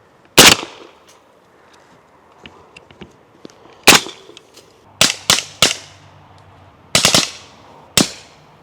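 Shots from a suppressed 300 Blackout rifle crack sharply at close range: a single shot, another after a pause, then a quick run of three and a final cluster of bursts, each with a short decaying tail.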